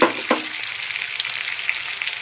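Chopped green chillies dropped into a pan of lightly fried capsicum and onion for chilli chicken, giving a steady close sizzle with a couple of soft knocks early on and no talking.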